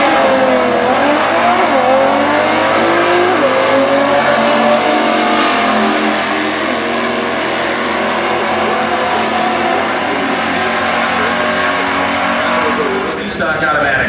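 A V6 truck and stock cars launch down a drag strip at the US Nationals: loud, continuous engine roar with rising revving pitch that holds for many seconds, a brief screech near the end, and an announcer's voice beneath.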